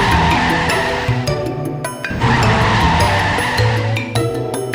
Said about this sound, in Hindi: इस अनजान व्यक्ति ने ठीक समय पर गाड़ी रोक दी